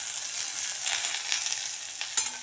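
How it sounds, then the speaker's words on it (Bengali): Vegetables sizzle gently in a pan over a low gas flame, a soft continuous crackle near the cooktop with a brief clink of stirring toward the end. "দেখতে পাচ্ছেন সবজিগুলো ভাজা ভাজা হয়ে এসেছে"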